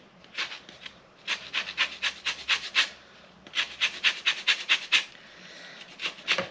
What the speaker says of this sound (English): So I'm just going to continue zesting that.